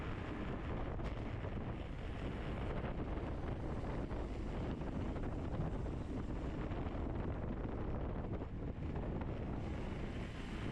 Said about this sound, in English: the wind's coming from the right side a little bit. Right headwind on this side.